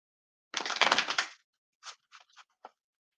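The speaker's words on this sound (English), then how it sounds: "I'm just shuffling right now, Sherry." Tarot cards shuffled by hand: one long, dense riffling burst followed by four short, crisp snaps of cards, close and fairly quiet, with no voices.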